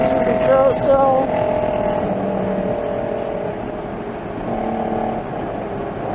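A GT4 race car's engine drones steadily on track, its pitch shifting between gears as it pulls through a corner, with a voice talking over it in places.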